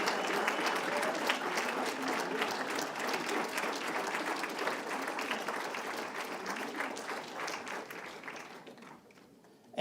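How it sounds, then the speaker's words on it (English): A banquet-hall audience applauds steadily for Hall of Fame members at an induction ceremony, dense sustained clapping that fades slightly toward the end. "give them a nice round of applause"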